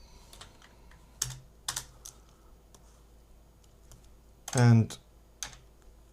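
Computer keyboard keys click in short bursts while someone works in Houdini, a few quick taps spaced apart with quiet gaps, close and moderately loud, one heavier clattering burst near the end and a brief spoken word.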